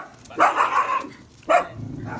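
Small dogs, including a Jack Russell, bark loudly and close by in two bursts, a long volley followed by a shorter one, with a softer whiny yip trailing at the end.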